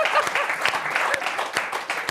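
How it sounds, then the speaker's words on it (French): Studio audience applause on a French football talk show, steady clapping from a crowd at moderate distance, sustained for a couple of seconds. "Vous pouvez l'applaudir."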